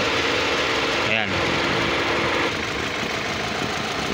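Car engine with a distributorless ignition system idling with one ignition coil deliberately faulted to simulate a misfire, a steady close running drone with a brief dip in the middle, heard under ongoing talk.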